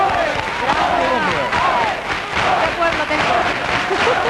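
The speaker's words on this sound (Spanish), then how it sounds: "Un aplauso." A crowd in a village town square applauds and cheers as a guest arrives, loud mixed clapping and voices with people talking over it throughout.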